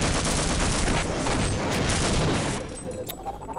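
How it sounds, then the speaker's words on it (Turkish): A rocket explodes right beside the player in the Half-Life video game, a loud, dense blast and rumbling roar that fills the whole clip before tailing off into lighter crackling debris. "Roket yanımda patladı ya."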